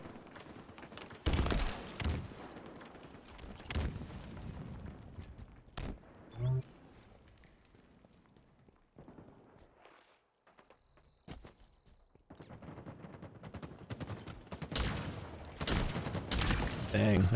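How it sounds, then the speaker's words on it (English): Heat rifle gunfire in a Halo multiplayer match, rapid bursts of shots arriving in clusters with quieter gaps between, heard under lively commentator talk. "Dang, that heat rifle can do some damage in the right hands"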